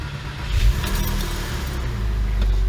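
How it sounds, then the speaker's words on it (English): Engine of a Porsche 911 of the 996 generation, parked after a brake pad replacement, running with a steady close rumble and a slight swell in level near the start. "Once they get really stiff, it's all compressed and we can start the car."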